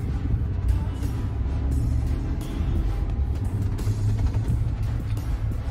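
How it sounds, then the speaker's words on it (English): A 2011 Chevy Suburban on a test drive after a PCM swap, a steady low engine and road rumble heard from inside the cabin, continuous and fairly loud with no talking. "Test driving a 2011 Chevy Suburban on the module that we programmed for the guy."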